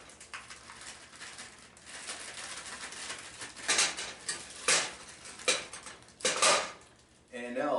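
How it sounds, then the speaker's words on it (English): A frozen brick of tomato is tossed into a cooking pot, giving a few sharp, close knocks and clatters of metal against ice over quiet kitchen background. "And now I just simply throw this into the pot"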